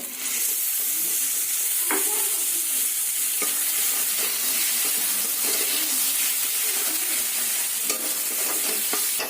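Pointed gourd pulp is stirred and fried in a pan, a continuous close sizzle with scraping strokes of a spatula throughout, no talking.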